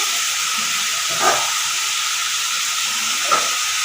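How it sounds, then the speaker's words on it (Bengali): Potatoes and drumstick stalks frying in a pan give a steady close hiss and sizzle, with two faint clinks of stirring. "দু তিন মিনিট ভেজে বেশিক্ষণ ভাজতে হবে না একটু আলুর কাঁচা গন্ধটা যাওয়া অবধি একটু নেড়ে নিলাম"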